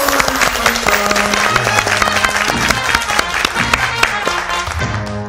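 A talk-show audience claps in welcome, a full, continuous round of applause that stays loud throughout, with tonal sound and faint voices mixed underneath.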